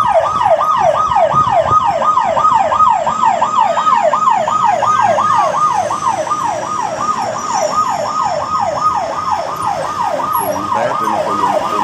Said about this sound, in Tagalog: ingat po kayo, may ambulansya